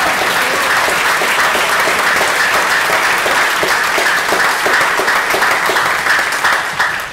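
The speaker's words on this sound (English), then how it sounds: "She deserves another round of applause as well." Loud, sustained applause fills a school concert hall after a choir and orchestra performance, many hands clapping in a thick, even roar that holds steady for several seconds.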